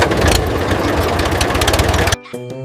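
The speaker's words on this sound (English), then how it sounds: "The engine rumbles." A red tractor engine rumbles loudly and close, a dense rough knocking idle that runs steadily, then cuts off abruptly into a brief tonal musical sting.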